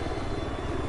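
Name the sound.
helicopter flying in video game Battlefield 4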